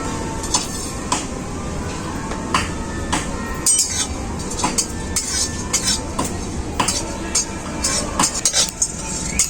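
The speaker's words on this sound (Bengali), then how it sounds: "এই মশলাগুলো আমি সব ভেজে নেবো শুকনো কড়াই" Whole spices such as cinnamon, cloves, cardamom, nutmeg, fennel, cumin, coriander and black pepper dry-roast in a dry wok, with repeated metallic scrapes and clinks from stirring over a steady low background.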